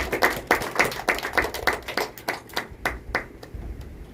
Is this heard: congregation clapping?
yes